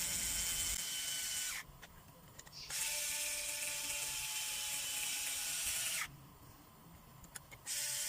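Ratchet tightening clutch basket bolts on a Kawasaki ZX12R motorcycle during a billet clutch basket conversion: quiet close clicking in two runs, separated by short pauses, over a steady high workshop hum, no talk.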